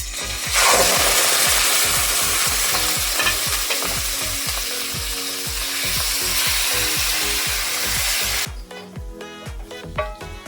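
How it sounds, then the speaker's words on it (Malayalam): Squid hits hot coconut oil in a pan with mustard seeds, a loud, broad hiss that holds steady for several seconds, then drops away to scattered crackling pops, heard up close with no voices. "ഇനി നമുക്ക് ഇതിലോട്ട് കണവ ഇട്ട് കൊടുക്കാം"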